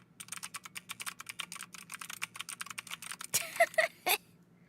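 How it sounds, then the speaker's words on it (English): Rapid typing on a mechanical keyboard at a desk: dense, even clicking keystrokes in a steady stream, ending with a few louder separate taps, alone and fairly quiet. "So basically a mechanical keyboard."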